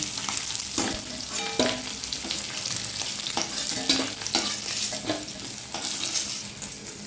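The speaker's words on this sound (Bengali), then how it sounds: "মাছটা আমি হালকা ভেজে দিয়েছি, তুলে নেব।" Fish frying lightly in hot oil for a Bengali thin fish curry, a steady close sizzle with occasional sharper crackles and soft utensil clinks, no talking.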